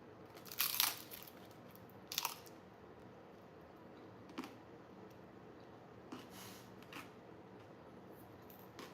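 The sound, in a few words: biting crunchy oven-toasted tortilla tostada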